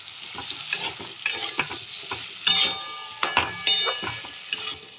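Turnip pieces sautéing with Kashmiri red chili powder and garam masala, a sizzle broken up by repeated scraping and clinking of a spoon against the pan. The stirring strokes come in an uneven rhythm, close and fairly loud.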